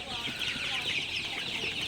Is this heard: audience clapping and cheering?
no